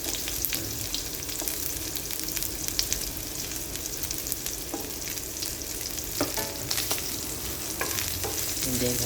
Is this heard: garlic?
yes